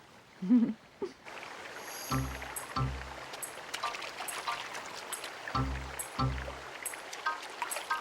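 A cartoon stream flows with a soft, steady wash of water running beneath brief tonal voices or music.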